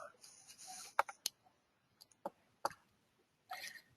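A computer mouse clicks during a software demonstration, with crisp single clicks spaced irregularly a few times over a few seconds. The clicks are close and fairly quiet against a near-silent background.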